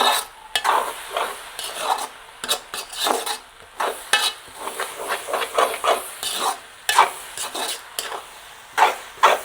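Onions and spices such as cinnamon fry in a pan for a sweet chili sambol, heard as a busy sizzle broken by frequent, loud stirring scrapes and clatters in an uneven rhythm.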